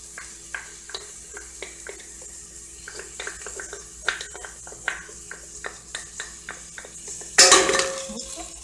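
Garlic and onion in a home kitchen pan, with repeated light scraping and clinking of a utensil stirring, then a brief burst of louder frying hiss near the end.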